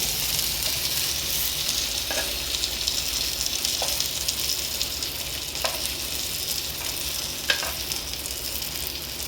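Grilled chicken (ayam bakar) tossed in a pan over high heat, a continuous loud sizzle with scattered crisp spatula clicks and scrapes against the pan, close and without any voices.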